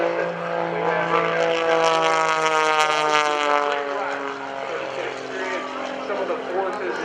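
An aerobatic propeller airplane performs at an Air National Guard open house airshow, its engine droning and shifting pitch as it passes, loud and fairly near, while an announcer talks over it.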